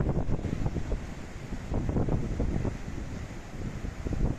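A strong poniente wind blows at the sea, buffeting the microphone with a loud, gusty roar. Surf rumbles underneath in continuous surges, with no voices.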